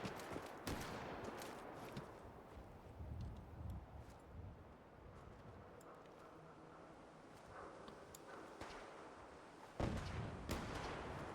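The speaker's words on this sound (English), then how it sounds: "So we've already got shots incoming." Gunfire in Fallout 4 modded with the SKK Tarkov mod, with scattered sharp shots and booming reports over a rumbling battlefield backdrop, including a louder burst near the end.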